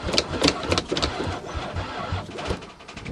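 A van engine cranking over without catching, steady rapid chugging of the starter under a noisy broadband wash, fairly close and continuous for a few seconds.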